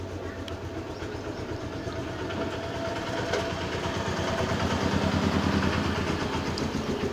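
A tailor's sewing machine runs steadily while stitching pajama fabric, a continuous low mechanical whir with a fast, even rhythmic chatter that holds close and moderately loud throughout, with no talking.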